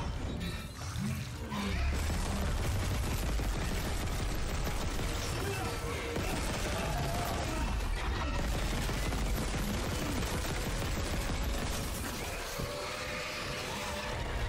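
Dense, continuous gunfire and crashing impacts from the Dead Space (2023) video game fill the scene loudly and almost without a break, with a voice now and then underneath.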